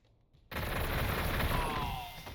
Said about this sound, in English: Enjoy your frag grenade.